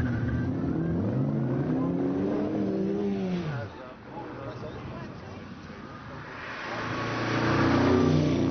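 A 5.7-litre V8 HWM Stovebolt Special climbs a hill, its engine booming and rising in pitch as it accelerates, fading briefly then swelling louder toward the end, with a commentator talking over it.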